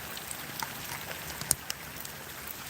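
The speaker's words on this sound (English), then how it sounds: "I'm like the middle of a heavy downpour now." Heavy rain downpour falling outdoors during a fishing trip: a steady, soft broadband hiss with scattered sharper drop taps, fairly quiet and with no talking.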